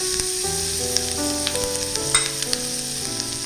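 Butter sizzles steadily in a pan, ready for a filet mignon steak, a constant close hiss with occasional pops, with tonal background music underneath throughout.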